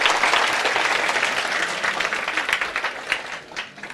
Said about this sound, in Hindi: एक बार ताली बजाओ रे